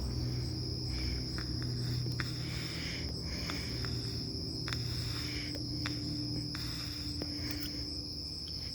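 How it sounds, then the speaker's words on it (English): Crickets chirp steadily at night in a quiet residential neighborhood, a continuous high-pitched trill with faint pulsing and soft background hum, no talking. "Tonight I can hear the crickets."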